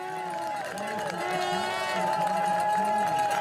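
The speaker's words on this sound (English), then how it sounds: "She comes up now past a huge crowd who are giving her a massive welcome" A huge crowd cheers a rider in the women's elite race at a Dublin cyclo-cross World Cup, a sustained roar that swells toward the end, heard under steady commentary.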